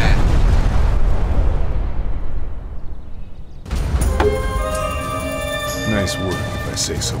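A loud, rumbling explosion in the video game Sniper Elite 4 bursts and slowly decays over several seconds, then gives way to sharper game effects and music.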